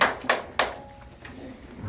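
An audience at a Hangul Day poetry-recital performance claps: a few sharp, separate claps early on, then fainter scattered taps with no voices over them.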